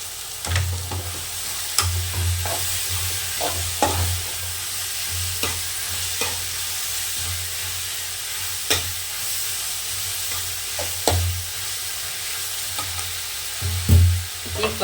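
Grated carrot being stirred in a frying pan, with a scraping spoon striking the pan at irregular intervals over a low continuous sizzle.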